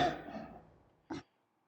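A person coughs harshly in a drawn-out burst that fades away, then gives one short, sharp cough a second later; close and fairly quiet, with silence after.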